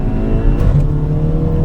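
An Audi RS5 rated at 350 BHP accelerates hard, its engine a loud, dense, low droning roar that holds steady and close for the whole short stretch, with no talking over it.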